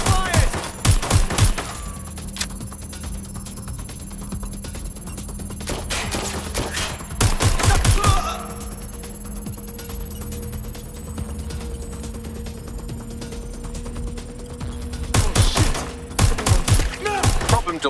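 Bursts of automatic gunfire from the video game Watch Dogs: Legion, loud clusters of rapid shots near the start, middle and end, with quieter game ambience and faint voices in between.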